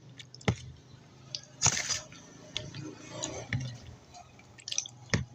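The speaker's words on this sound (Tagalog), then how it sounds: "Halo muna natin yan, guys." Fruit salad with nata de coco being stirred in a bowl, giving wet squishing and dripping sounds with a few sharper clinks and splats, close and moderately loud, no talking.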